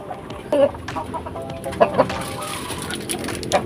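Chickens at a rural farmyard cluck in short, scattered bursts while being fed, close by, over a background of soft rustling.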